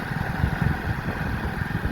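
A Hero Splendor motorcycle engine runs steadily at low revs, a continuous close rumbling putter with even vibration and no talk over it.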